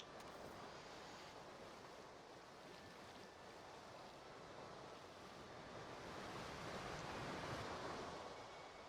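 Water waves from the Jurassic World Evolution 3 video game, a soft steady wash of surf and rushing water that swells slightly toward the end, faint and continuous without any talking.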